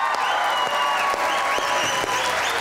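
Studio audience applause on a Pakistani comedy talk show welcoming an actor and singer, steady loud clapping throughout with a few faint whistles, no talk over it.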